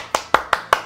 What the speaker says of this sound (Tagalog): Pumalakpak ako noon, ha?